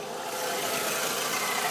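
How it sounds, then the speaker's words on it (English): A 1999 Volkswagen Beetle GLS idles with a steady, slightly uneven engine note, close and fairly loud, a somewhat rough idle that has been improved but is not quite smooth. "As you can hear, it's idling a little bit better."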